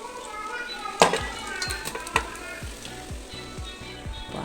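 Dried red chillies crackle in hot oil for a tempering, giving a low, steady sizzle broken by a few sharp pops and repeated soft scraping strokes.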